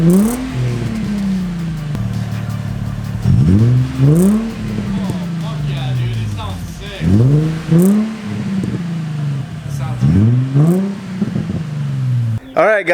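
An Infiniti G35 with an ISR single-exit exhaust revs repeatedly, each blip rising sharply and falling back to a loud burbling idle, with several rev bursts over the clip and a voice briefly heard nearby.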